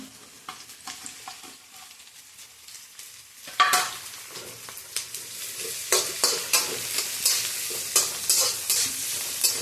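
Onion and capsicum being stir-fried in a pan, the sizzle jumping louder partway through, with a steady run of scraping spatula strokes over the hiss. No one speaks.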